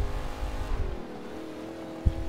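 A Chevelle race car holds a steady, droning engine note as it drifts through a turn, loud and close, with a brief thump near the end.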